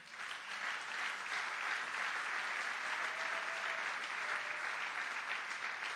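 A church congregation applauding during a French-language sermon, a steady wash of many hands clapping throughout, moderately distant and even in loudness.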